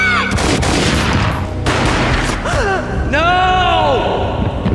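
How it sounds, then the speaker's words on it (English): A gunshot in the video game Max Payne cracks out loud and near, then an echoing boom follows amid a dense, busy mix of game sound effects and rising whooshing tones. "A gunshot boomed and she fell down in slow motion."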